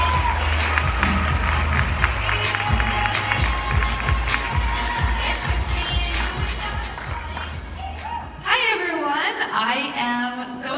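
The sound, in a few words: audience applause and cheering for a speaker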